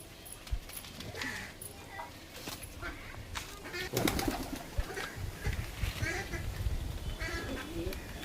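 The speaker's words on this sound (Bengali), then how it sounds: "এই দেখুন পায়রা দেখুন কেমন।" Pigeons in a loft, their soft coos and shuffling running steadily throughout amid a busy, slightly noisy room background.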